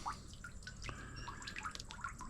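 Running water splashes over freshly caught white bass during a basic rinse, a close, faint patter of drips and trickles with scattered small splashes and no talking.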